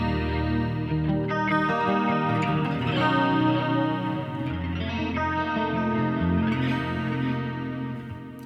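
Electric guitar played through a Line 6 Helix on a clean Jazz Rivet amp model with delay, chorus and a touch of reverb, sustained chords and notes ringing continuously and fairly loud with shimmering repeats, no voices.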